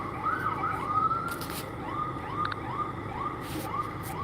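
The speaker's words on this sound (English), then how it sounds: "that's the ambulance that showed up" Ambulance siren wailing at a distance as it arrives at a car fire scene in the city, faint and cycling steadily under background street noise.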